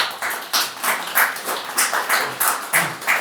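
A conference audience applauds in rhythmic, fairly loud clapping, with bursts of hand claps rising and falling roughly every third of a second, no voices over it.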